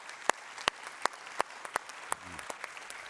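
Sparse clapping from a small audience after a panel at a carbon capture, utilisation and storage forum: a handful of distinct, separated claps spaced through a quiet room, thinning toward the end.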